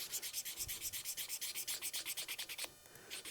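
A Damascus steel integral chef's knife is hand sanded at 600 grit, a close, steady back-and-forth rasping stroke repeated rapidly and evenly, with a short pause near the end.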